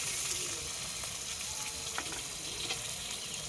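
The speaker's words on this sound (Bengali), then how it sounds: "এবার আমি টমেটো দিয়ে দিলাম" Tomatoes go into spices sizzling in hot oil for a chicken curry, giving a steady, close frying hiss that runs without a break and with no talking.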